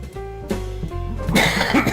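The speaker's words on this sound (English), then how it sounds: "Unexpected cough, and I hate those." A single sharp cough bursts out close by over a steady tonal background hum.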